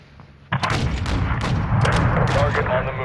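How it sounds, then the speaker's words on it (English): An incoming cruise missile strike in Call of Duty MWII, with a sudden loud impact followed by sustained rumbling explosions and scattered gunfire, while a voice speaks over the din. "Hostile cruise missile incoming."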